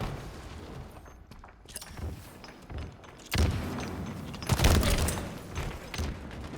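Grenade explosions and gunfire crackle through a Halo esports match, a steady low rumble of combat broken by louder booming bursts partway through and again soon after.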